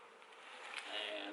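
Honey bees buzzing inside a hive with comb, a dense, steady, close hum that swells slightly toward the end, with no talk over it.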